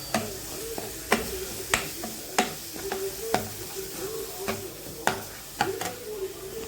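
A spoon scrapes and taps against a pan in a steady stirring rhythm, mixing masala for onion egg gravy, over a constant soft sizzle of frying.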